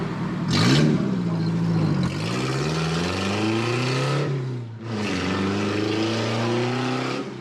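Car engines fire up and rev at a morning car meet, loud and close, revs climbing and dropping in long sweeps with a sharp blip at the start and a brief dip before revving again.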